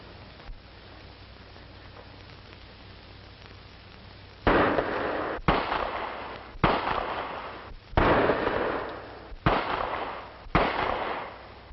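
Pistol shots crack during target shooting practice, six loud sharp reports spaced roughly a second apart after a quieter stretch, each with a short ringing tail, with no talking over them.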